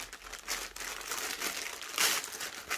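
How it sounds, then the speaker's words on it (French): Parcel packaging being torn open by hand, a close series of crinkly ripping and rustling bursts with one louder tear near the end. "Alors, hop, je déchire au plus que possible."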